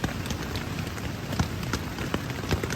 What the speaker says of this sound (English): I'm going to enjoy listening to the rain while I fall asleep.